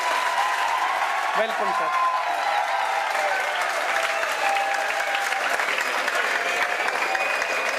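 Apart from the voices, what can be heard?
applause welcoming a speaker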